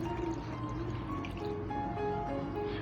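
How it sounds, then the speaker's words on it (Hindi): Water is poured into a pot of beef for yakhni pulao, a continuous splashing fill whose gurgling pitch shifts as the pot fills, steady and fairly close. "पानी डालना है।"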